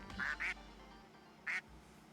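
Three short, bright duck quacks, two close together and a third after a pause, with no one talking over them.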